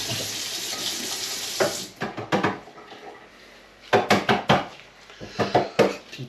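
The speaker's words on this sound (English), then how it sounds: "So, quickly wash my hands." Hands are washed under a running kitchen tap: a steady stream of water first, then a few bursts of splashing and rubbing as the hands move through the flow.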